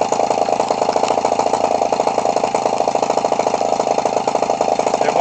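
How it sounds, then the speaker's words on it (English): Small Echo 20cc gas engine for an RC model running steadily, a loud close buzzing drone with a rapid, even firing pulse and no talk over it. "Got a lot of power for a small engine."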